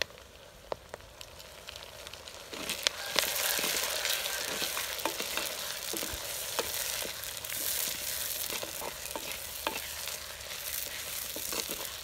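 Onions, curry leaves and chopped tomatoes frying for a Tamil-style mutton curry (kari kuzhambu), a steady loud sizzle running throughout with occasional sharper crackles and spoon stirring, no talking.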